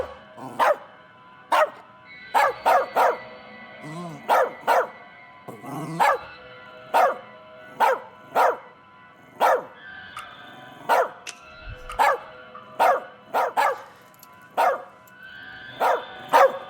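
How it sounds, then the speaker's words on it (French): A nervous dog in the video game As Dusk Falls barks repeatedly in sharp, evenly spaced yaps over more than fifteen seconds, with a few soft whimpers mixed in, close and clear. "C'est un chien, gros malin."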